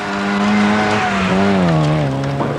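A Mini 850 rally car on a historic rally stage, its small engine screaming at high revs with the pitch rising and falling through gear changes, loud and close with crowd noise faint behind it.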